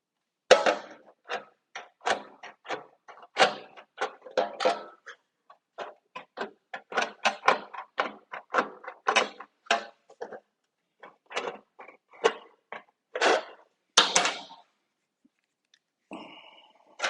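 Metal snips trim sheet metal in dense, crisp clipping bursts, dozens of sharp cuts in an uneven, rapid rhythm with brief pauses, close and clear, with no talking over them.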